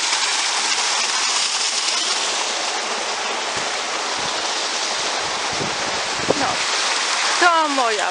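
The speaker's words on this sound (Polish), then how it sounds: "jakby ktoś nie chciał wierzyć, że tu pada" Steady rain falling in the Scottish mountains near waterfalls, a dense constant hiss of water that lasts throughout, with a short voice near the end.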